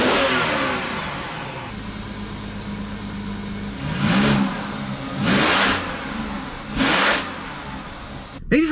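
A BMW 7-Series heard from inside the cabin gives three surging bursts of engine and exhaust noise as it accelerates, each rising then easing back, loud over a lower steady drone.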